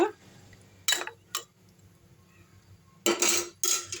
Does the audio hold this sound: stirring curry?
yes